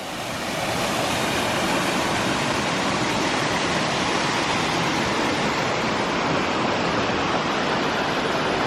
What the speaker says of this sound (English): We got ourselves a little bit of a waterfall.